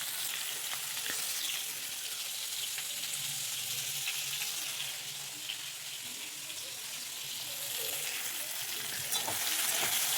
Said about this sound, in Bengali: এটা ফুলকপি আর আলুটা একটু ভাজা ভাজা হয়ে এসছে